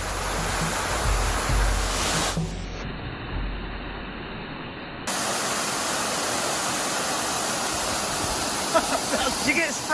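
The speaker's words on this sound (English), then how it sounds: "This is pretty cool, hiking underneath a waterfall like this." Waterfall roaring overhead while hiking underneath it, a loud, steady broadband rush of falling water filling the scene, briefly dulled for a few seconds before returning at full force.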